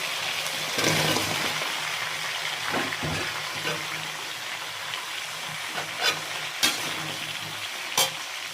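Potatoes and flat beans drop into a pan of sizzling, oil-rich spiced curry masala, giving a steady frying hiss broken by sharp spatula clacks and stirring scrapes, close and fairly loud.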